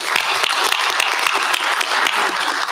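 Loud, dense applause fills a room at a university system board of supervisors meeting, a continuous wash of many hands clapping for a team, steady throughout with no speech on top.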